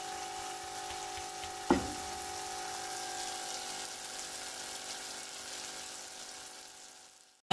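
Fish masala cooking in hot oil in a pan, with a steady, close frying sizzle that carries on throughout and a single brief clatter early on.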